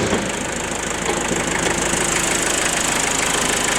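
First-generation Kia Sportage with a 2000cc intercooled turbo diesel engine idling, giving a steady, dense clatter with a rough knocking texture, heard close and fairly loud without any speech.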